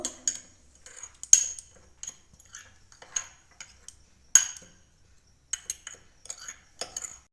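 A spoon clinks and scrapes against a bowl while salt, half spoons of chilli powder, chaat masala and amchur powder are stirred together, giving a string of close, light metallic taps in uneven bursts with short pauses.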